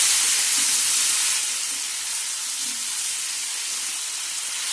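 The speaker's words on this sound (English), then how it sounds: "add in the potatoes. Cook for a minute on high heat." Potatoes frying in a pan on high heat for Bengali aloo posto, giving a loud, steady broadband sizzle that eases slightly partway through, with no talking.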